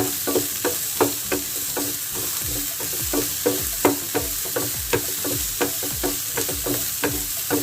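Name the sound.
sautéing onion in pan on high flame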